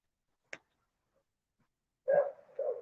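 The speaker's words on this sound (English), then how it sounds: "The dog's not loud. You just hear her in the distance." Distant dog barking near a busy street corner with buses and nearby schools: one short faint yelp, then a couple of quiet, muffled barks after a pause, heard alone.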